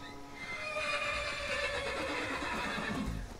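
A horse in the video game Skyrim gives a loud, drawn-out whinny with wavering tremolo pitch that fades after a few seconds, alone and close.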